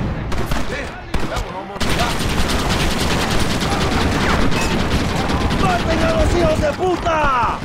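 Gunfire in the video game Red Dead Redemption as shots hit barrels at the gates of El Presidio, a dense, loud continuous fusillade of rapid shots and bursts, with voices shouting over it.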